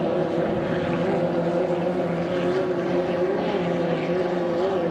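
A steady, droning racing boat engine, a 2.5-litre hydroplane in a race heat at Syracuse, roars continuously, loud and unbroken, with a slight wavering pitch and no voices.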